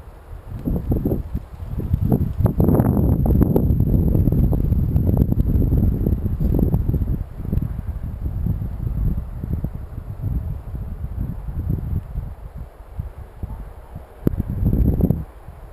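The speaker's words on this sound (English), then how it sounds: "I guess right here there's like a huge gust of wind." Strong wind gusts buffeting an outdoor microphone during a drone practice flight, loud rumbling bursts that swell and fade unevenly for several seconds, then a final sharp blast near the end.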